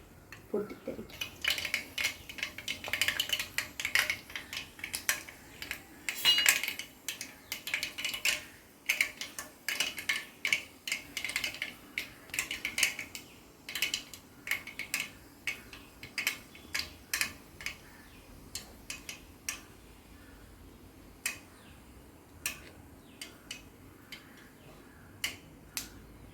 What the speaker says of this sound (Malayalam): കടുകെല്ലാം നല്ലോണം പൊട്ടി വന്നു.